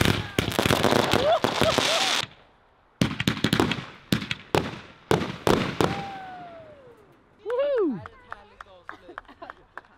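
Small, mild fireworks bang and crackle in rapid bursts, with sharp pops separated by short pauses and a whistling rocket near the end, all loud and close.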